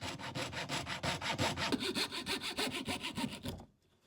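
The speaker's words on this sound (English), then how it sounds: "Get the old coping saw." A coping saw cuts through wood in quick, even back-and-forth strokes, close and rhythmic, stopping abruptly near the end.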